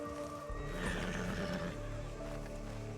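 A horse neighs loudly in the RedM western game, a shrill whinny rising and falling over about a second, with hoof clip-clops and faint game ambience around it.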